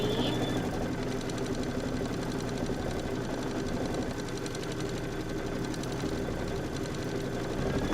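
An embroidery machine stitches out a radial appliqué block in a steady, fast mechanical whir with rapid needle pulses that hold at an even level throughout, nearby with no voices.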